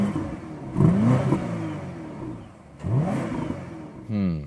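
BMW V8 petrol engine with a particle filter revs in short bursts, the pitch sweeping upward twice with a throaty mid-range growl and quieter idle in between, plus a brief rising whir at the end.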